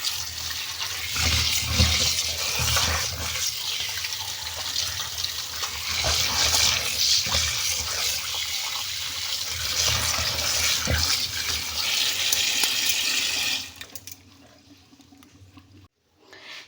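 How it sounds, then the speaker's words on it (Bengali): Tap water runs steadily into a sink while vegetables are washed by hand, a broad continuous splashing rush that cuts off near the end and leaves quiet room noise. "সবজিগুলো এখন নিচ্ছি ধুয়ে"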